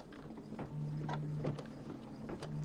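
A sewing machine runs steadily, stitching through a quilted bench-buddy square, its motor a continuous close mechanical whir with faint ticking of the needle throughout.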